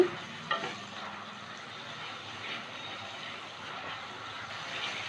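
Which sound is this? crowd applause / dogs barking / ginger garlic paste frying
ginger garlic paste frying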